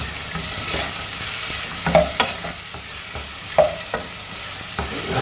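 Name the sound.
sautéing tomatoes, onion and garlic in a pan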